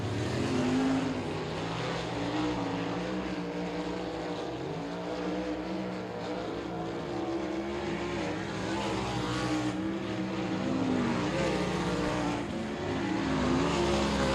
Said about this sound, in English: The 21X of Carson Short at speed on the back straightaway to Marion, Illinois